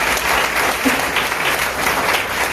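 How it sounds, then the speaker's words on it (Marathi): An audience at a lecture series gives loud, continuous applause for two school sports teachers, a thick, even roar of many hands clapping close and strong throughout. "तर इनामदार सर आणि सुतार सरांसाठी पण टाळ्या वाजवा."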